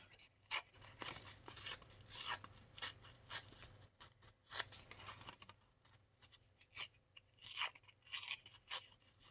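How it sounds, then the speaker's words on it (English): Paper being torn along its edges by hand while making card clusters and pocket inserts, quiet close-up rasping rips that come in uneven bursts with short pauses. "I'm going to tear the edges on this one."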